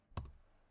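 A single quick keystroke on a computer keyboard while entering a web address, a short soft click up close, quiet and alone.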